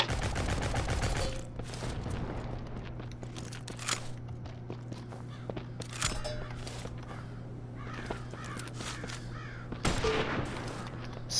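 Gunfire in the Shotgun Farmers game: scattered sharp shots and short crackling volleys pop at varying distances over a steady low hum, with footsteps and cawing bird-like calls mixed in.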